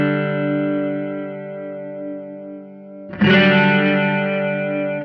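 An electric guitar chord sustains through a Walrus Audio Julia analog chorus pedal, first with a subtle wavering shimmer, then the effect deepens after a fresh strum into a thicker, more dramatic warble that rings until cut off, with no talking.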